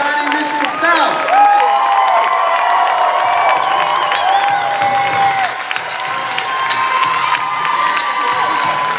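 A loud crowd at a 2015 youth poetry slam final cheers and claps steadily for a poet, with shouts and whoops rising over continuous applause.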